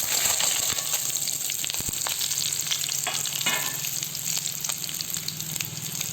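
Cumin, fenugreek and dried red chillies fry in a pan for a gongura chutney, giving a steady close sizzle with light stirring scrapes throughout, no voices.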